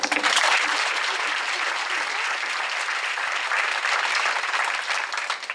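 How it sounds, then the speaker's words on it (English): Dinner audience at a VA employee event applauds the cooks and wait staff, a steady, dense wash of clapping that holds at full strength throughout with no talk over it. "I'd like you to give a round of applause to all the cooks and wait staff who made that meal possible tonight."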